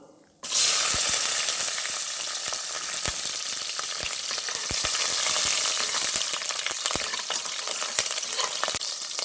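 Green chillies frying in hot oil in a home kitchen while mutton biryani is prepared; a steady, loud sizzle runs throughout with small crackles and pops, starting abruptly after a brief quiet moment.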